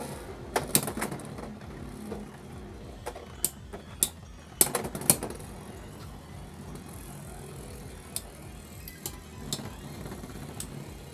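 Beyblade X spinning tops, including a Pokemon Giratina top, clash in a stadium after launch, giving scattered sharp metallic clicks and impacts over a steady whirring hiss, with no talking.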